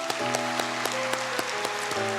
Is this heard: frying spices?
no